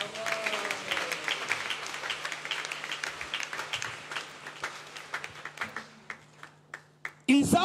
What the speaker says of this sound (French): Étant assis, rend encore gloire à Dieu par des acclamations.